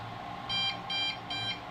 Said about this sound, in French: Donc, votre télécommande bip.